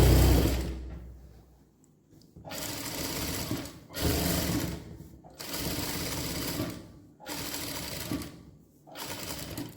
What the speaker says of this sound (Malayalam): താഴത്തേക്ക് ഫുള്ള് സ്ട്രെയിറ്റ് സ്റ്റിച്ച്